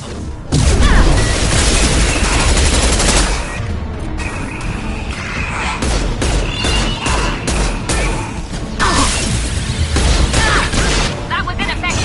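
Anti-ship batteries fire on a collector vessel in a sci-fi game battle. Heavy booming blasts and crashing impacts pile up loudly across the scene, with a voice talking over the barrage.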